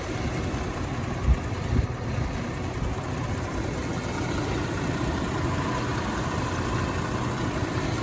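A 2019 Jeep Grand Cherokee Trailhawk with a 3.6 liter 24-valve V6 idles in a steady, low, even rumble throughout, with no talk over it.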